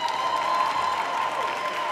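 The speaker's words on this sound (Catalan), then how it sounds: "Un fort aplaudiment per a tots els graduats i graduades." A graduation ceremony crowd applauds the graduates, a short burst of steady clapping mixed with crowd noise and a faint cheer or whistle.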